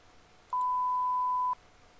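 A single electronic phone tone, about one second long and steady, sounding alone against a quiet background.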